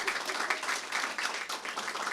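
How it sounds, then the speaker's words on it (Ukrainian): An audience at a live improv comedy show applauds, a steady dense patter of many hands clapping at moderate loudness, close and unbroken for a couple of seconds. "Оплески ще раз"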